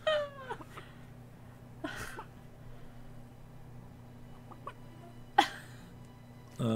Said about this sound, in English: Oh my god, it's the chicken.